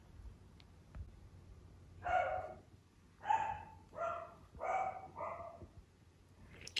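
A dog barks about five times at a distance, short sharp barks spaced roughly a second apart over quiet background noise.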